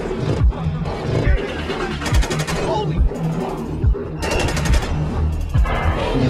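Suppressed pistol shots in Splinter Cell Conviction, a stealth shooter: several short, punchy thumps spaced across a busy, roaring game soundscape with layered effects and music throughout.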